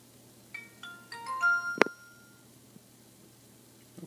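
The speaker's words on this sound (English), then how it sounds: "We power on the phone." An Alcatel OT-3040 mobile phone powering on plays a short startup melody of bright electronic tones that rise and step through several notes, ending in a sharper blip, followed by quiet room hiss.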